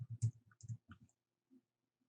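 Typing on a computer keyboard: a quick, quiet run of close clicking keystrokes, followed by a pause and then a couple of faint final taps.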